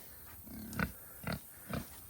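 A farm pig grunts three times at a steady spacing in a field with rye growing, each short low grunt close by and fairly loud over a quiet outdoor background.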